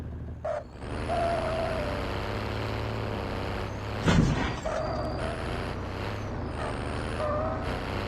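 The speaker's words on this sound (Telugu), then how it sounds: "మేనేజ్ చేయడం చాలా కష్టం ట్రక్." A heavy truck driven in a Call of Duty battle royale game gives a steady, loud engine drone, broken by sharp air-brake hisses and a rough mechanical burst midway.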